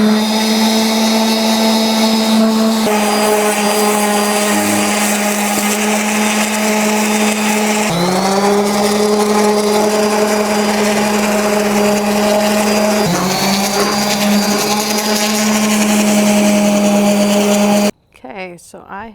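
Wood for a shelf organizer is sanded with a power tool, a loud, steady motor whine that shifts pitch slightly a few times before cutting off abruptly near the end.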